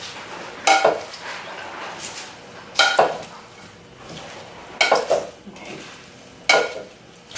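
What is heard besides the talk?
tongs mixing collard green salad in a bowl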